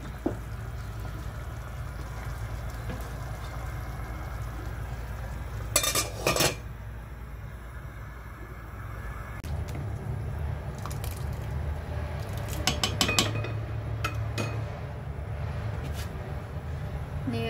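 A spoon scrapes and clinks inside a pot while a sticky mixture of jackfruit and palm sugar is stirred, with a few sharper metallic knocks among soft squishing, over a low steady background hum.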